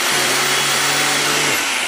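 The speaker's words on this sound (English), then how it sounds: "run your drill," A loud, steady whirring electric drill spins close by, running sandpaper against a miniature tree trunk to taper it, continuous with a slight pitch drop near the end.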